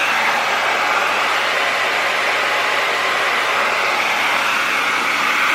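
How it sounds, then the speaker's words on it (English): Steady, loud broadband whoosh of a GHD hair dryer with a diffuser blowing continuously, unbroken and close, with no voices. "this is the diffuser on the GHD hair dryer"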